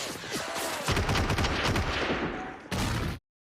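Dense bursts of rapid gunfire from the film 28 Days Later crackle in overlapping volleys, then cut off abruptly into silence near the end.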